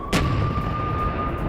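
A Ukrainian howitzer shelling Russian positions in a war zone: one loud sharp boom right at the start, followed by a lingering rumble and a steady thin electronic tone.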